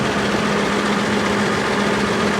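A JCB Fastrac 2135 tractor with a 150 hp Perkins engine idles close by, a steady, even diesel drone with a firm low hum and no break.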